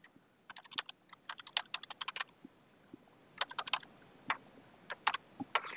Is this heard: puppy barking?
no